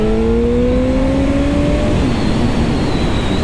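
A Suzuki GSX-R1000 K2 motorcycle pulls in first gear on an open road, its engine note rising loud and close, then holding as a steady roar.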